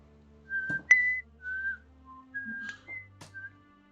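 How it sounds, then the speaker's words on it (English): A person whistles a short tune alone, clear and close, in a string of distinct phrases with brief pauses between them. "I think that's all I can whistle."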